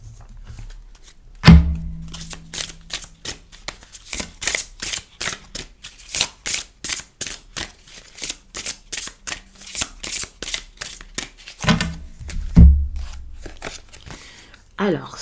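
Tarot cards are shuffled in a long run of quick riffling bursts during a new moon reading, with a couple of heavier thumps near the start and near the end as the deck is handled.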